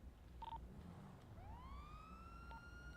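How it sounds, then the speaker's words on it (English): A police car siren in a video game, a single rising electronic wail that sweeps up and holds high, preceded by a short tonal beep and quiet background hum, with no voices. "get those lights and sirens going."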